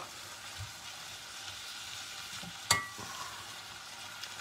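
Sliced peppers sweat in a pan for a Spanish-style rabbit dish, giving a soft, steady low sizzle with one sharp utensil clink partway through.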